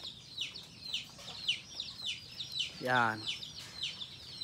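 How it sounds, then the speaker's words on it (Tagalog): Native chickens cluck repeatedly in a pen, a busy layering of short, close clucks and peeps, with one louder drawn-out call rising near the middle and a brief spoken word. "So ayan yung aking mga alagang native chicken."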